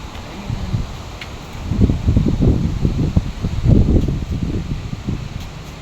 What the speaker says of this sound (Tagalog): Lakas ng hangin. Kaya sobrang lamig guys.